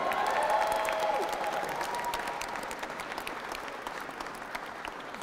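A round of applause for Miss Ruthie at a mayor-elect's victory speech, a crowd clapping steadily and fading slightly as it goes on, with a faint voice trailing in at the start.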